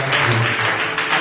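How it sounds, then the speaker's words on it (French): A brief, dense wash of applause and cheering fills a church hall, steady and fairly loud throughout the short burst. "Est-ce qu'on peut acclamer très fort dessus?"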